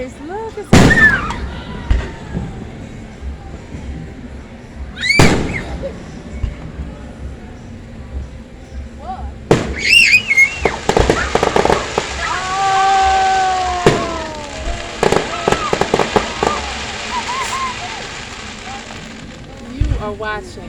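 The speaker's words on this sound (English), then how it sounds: "Those things make the fireworks." Fireworks bursting over Coney Island: a few loud, sharp booms spaced several seconds apart, then a denser run of pops and crackles with whistling, under excited talk from people nearby.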